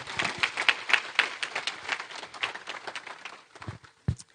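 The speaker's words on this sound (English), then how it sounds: "How about another big round of applause?" An audience at an awards luncheon applauding honorees and sponsors, a moderate spread of clapping that thins out over a few seconds, with a couple of sharper isolated claps near the end.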